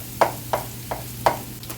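Onions going into a pan of frying potatoes, with five soft, evenly spaced scraping stirs over a faint low sizzle, quiet and close.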